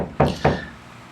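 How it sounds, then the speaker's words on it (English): Two sharp, solid knocks about a quarter second apart, from neighbors hanging things on the wall next door, heard alone and slightly muffled through the wall, with a faint room hum after. "If you can hear that knocking, I have neighbors moving in next door and they're hanging things"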